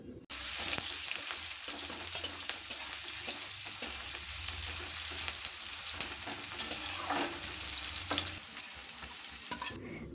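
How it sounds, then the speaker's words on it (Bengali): Onions fry in hot oil with panch phoron five-spice, a steady close sizzle running throughout with frequent stirring scrapes and clinks, easing slightly near the end. "ওই 5 ফোড়নটা একটু নাড়াচাড়া করে দিয়ে দেব পেঁয়াজ। পেঁয়াজটাকে বেশ ভালো করে একটুখানি ভেজে নেব।"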